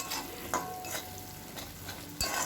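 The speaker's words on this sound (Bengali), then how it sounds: "নুন হলুদ আমি দিয়ে একটু ভালো করে নাড়াচাড়া করে পেঁয়াজটাকে ভালো করে ভেজে নিচ্ছি" Onions fry in a pan with salt and turmeric, a steady close sizzle punctuated by several clinks and scrapes of a spoon stirring against the metal.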